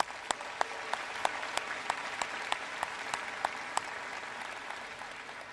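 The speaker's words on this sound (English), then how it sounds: "Let's acknowledge them and their contributions with a round of applause" A graduation commencement audience at UCLA's Samueli School of Engineering applauding, a continuous distant wash of clapping with a few sharper individual claps standing out at a regular pace, fairly faint.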